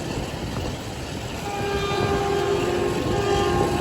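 A train rolls along the Gujranwala to Lahore line, heard from inside a passenger coach as a steady, loud rumble of engine and wheels with a sustained horn-like tone building partway through.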